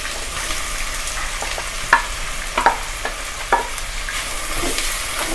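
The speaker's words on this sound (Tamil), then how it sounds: "வெங்காயம் சேர்த்துட்டு நல்லா எண்ணெயில் வெங்காயம் வந்து நல்லா ப்ரௌன் கலர், அதாவது கோல்டன் ப்ரௌன் கலர் வர வரைக்கும் வதக்கிக்கலாம்" Onions sautéing in oil for fish head curry, a close steady sizzle broken by several sharp spatula scrapes and clinks against the pan.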